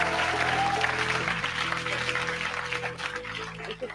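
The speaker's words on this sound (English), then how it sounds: "Big round of applause, guys." Audience applause at an awards event honouring a Changemaker of the Year, steady clapping filling the room for four seconds, with faint music tones and a voice briefly underneath.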